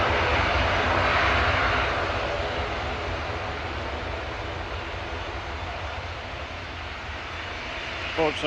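An Airbus A321 jet roars loudly at Manchester Airport, a broad, steady engine rumble that peaks early and slowly fades.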